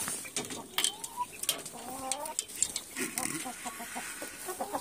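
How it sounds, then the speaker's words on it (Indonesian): Chickens in a coop with nesting boxes clucking close by in short irregular bursts, with someone speaking over them. "Ini ada lagi ayam."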